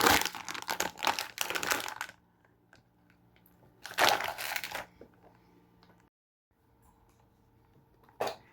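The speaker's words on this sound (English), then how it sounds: "She's putting a half a frozen bag of peas in there, y'all." Crinkling plastic bag of frozen peas poured into a pot for chicken and dumplings, loud rustling bursts separated by quiet gaps, with a brief crinkle at the end.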